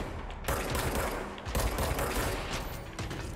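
Video game Control gunfire, a loud sustained fusillade of rapid shots with a brief gap near the start, dense and close, no talk.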